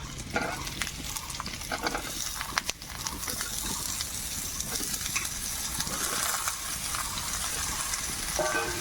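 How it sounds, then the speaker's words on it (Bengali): Ridge gourd and potato pieces fry together in oil left over from frying fish, giving a steady, close, dense sizzle with occasional stirring scrapes that continues throughout. "তো এবার আমি ঝিকা আলুটাকে একসাথে ভেজে নেব।"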